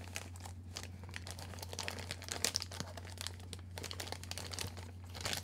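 Packaging for a camera battery charger rustles as tape is peeled off, with quiet, continuous crinkling and tearing close by and a few sharper crackles in the middle, set against a low steady hum.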